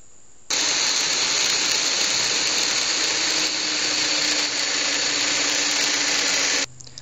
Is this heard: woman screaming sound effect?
no